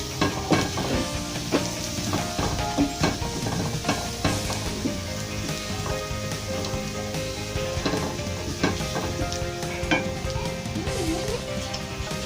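Chicken sizzles in a pan with curry powder while being stirred, a steady close frying hiss broken by repeated scraping and clinking of the spoon against the pot, with no voices.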